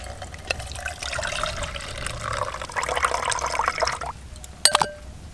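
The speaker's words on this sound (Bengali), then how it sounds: "আবার ভালো করে চটকে চটকে ধুয়ে নেব।" Salted potato pieces are washed and squeezed by hand in water, giving splashing, sloshing and dripping with a few sharper knocks near the end, close up and without talking.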